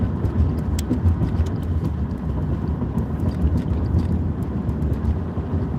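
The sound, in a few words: car driving on the road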